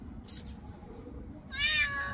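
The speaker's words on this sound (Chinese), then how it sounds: "这个猫好乖哦" A cat meows once near the end, a short, clear, moderately close call following a quieter stretch with faint background noise and a brief rustle near the start.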